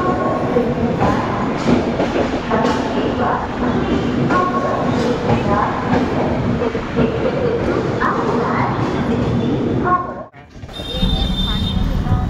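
A Rajdhani Express passenger train in 3AC class runs along the track near Ghaziabad, with steady loud rumble and rattling wheels plus squealing tones, voices talking over it, and a sudden brief dip near the end.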